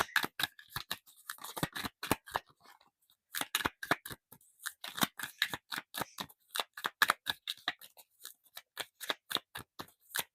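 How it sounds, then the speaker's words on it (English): Tarot cards shuffled and drawn from a deck, giving a rapid series of crisp, close papery flicks and snaps in uneven bursts with a short pause partway through. "let's get 3 more tarot cards, please."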